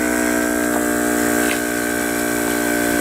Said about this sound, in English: so I'm going to turn the compressor on